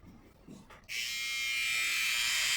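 A Philips OneBlade 360 electric shaver switches on after a few quiet handling sounds and keeps running with a steady, close, high buzzing hum, alone with no talking.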